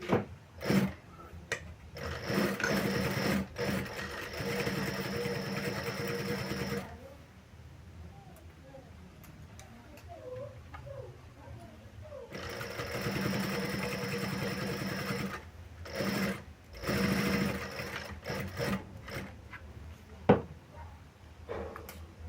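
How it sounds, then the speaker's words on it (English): A sewing machine top stitches a fabric sling bag, its motor whirring in two long close runs separated by a quieter pause, with brief stop-start bursts near the end. "Now this part you may choose to top stitch either 2 stitches for decor or just one."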